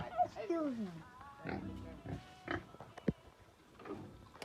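A pig grunts and oinks in short bursts close by, mixed with people talking and chatter around it.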